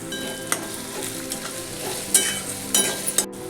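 Tomatoes and onions fry with turmeric in a pan, giving a steady close sizzle with stirring scrapes and a few sharp utensil clinks near the end.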